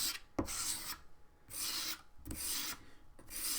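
A small plastic spatula dragging over wet paint droplets, making repeated close raspy scraping strokes with short pauses between passes.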